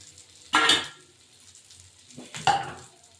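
Chicken pieces for chicken rezala drop into a hot pan with two loud bursts of sizzling and stirring, each flaring up and then fading into a low, steady fry.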